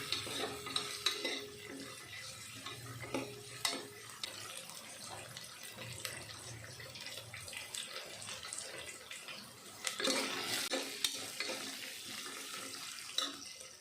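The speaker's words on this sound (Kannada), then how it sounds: "ಒಣ ಬಟಾಣಿ ನೆನೆಸಿ ಹಾಕೋದ್ರಿಂದ ಎಣ್ಣೆಲಿ ಸ್ವಲ್ಪ ಚೆನ್ನಾಗಿ ಫ್ರೈ ಮಾಡ್ಕೊಬೇಕಾಗುತ್ತೆ" Soaked dried peas frying in oil for vangi bath, heard as a steady hiss with intermittent stirring scrapes and splashy bursts, close and moderately loud, with no talk.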